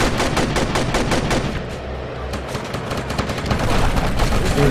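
Dense bursts of automatic gunfire from a firefight in the video game Shadow Harvest: Phantom Ops, rapid loud volleys overlapping continuously with no speech.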